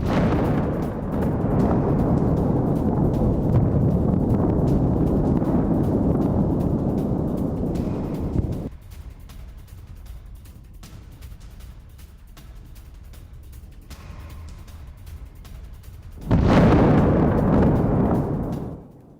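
Explosions from an Iranian missile strike near Tel Aviv, Israel: a long, loud rumbling roar that drops off to a low distant rumble, then another heavy blast surges up near the end.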